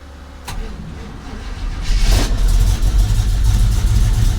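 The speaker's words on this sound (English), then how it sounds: "Car died, of course, with all the electrical work, so currently jumping it." Pontiac Firebird engine running while the car is being jump-started, starting at a low idle and then rising into a louder, heavier rumble partway through, close by with no talking.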